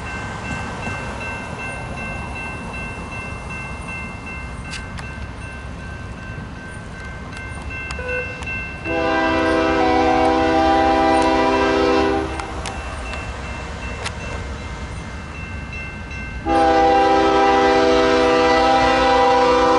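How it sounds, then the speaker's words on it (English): A BNSF coal train rolls through the Puget Sound area, its rumbling cars passing steadily while the horn sounds in two long, loud blasts separated by a few seconds. "here comes the coal train"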